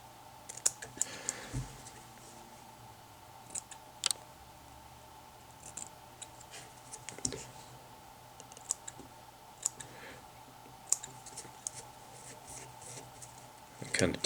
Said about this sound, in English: And you can trim your little wing.